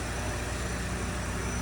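A short stretch of a 2005 Skoda Fabia vRS TDI PD 130 diesel at idle, an even, close, low-pitched drone with no one talking.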